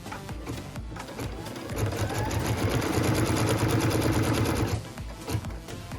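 A sewing machine stitches a tack down line on fabric for a pieced quilt block, a loud, rapid, even run of stitching lasting about three seconds between quieter handling sounds.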